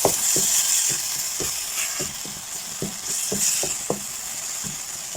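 Ground meat frying in a hot pan with oyster sauce and sugar, a steady loud sizzle broken by regular scraping stirs about twice a second, with no talking.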